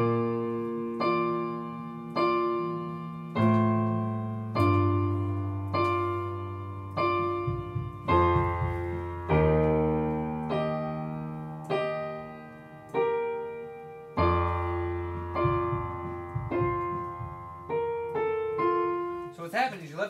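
An instrument plays the intro of a song, a slow melody of sustained, gently decaying notes over low bass tones, each note struck clearly and ringing out one after another.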